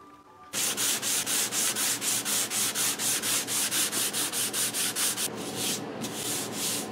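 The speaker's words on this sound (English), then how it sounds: "It's all been sanded" Guitar soundboard for a 45-style dreadnought being sanded by hand, a steady run of rapid rhythmic rubbing strokes, close and fairly loud, briefly pausing near the end before resuming.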